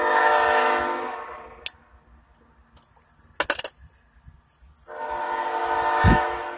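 A train passes nearby, its loud rumbling roar fading out and then building again, with a sharp horn-like burst and a few clanks in the quiet gap between.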